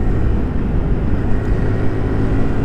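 A Honda CT125 Hunter Cub motorcycle engine pulling in third gear on a mountain road, a loud, steady, close drone mixed with wind rush.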